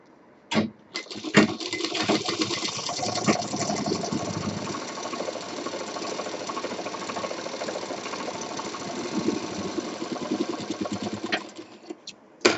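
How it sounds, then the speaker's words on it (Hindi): An electric sewing machine runs steadily for about ten seconds, stitching the sides of a simple cloth bag, its close, even mechanical whirr starting and stopping with a few clicks at either end. "अब इसको हम इस साइड से भी सिल देंगे, 3 साइड से सिलना है।"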